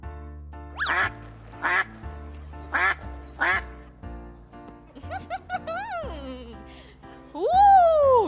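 A series of short, high quacks from ducklings in a rhythmic run, then a cluster of squeaky peeps and a longer quacking call, sounding close and lively.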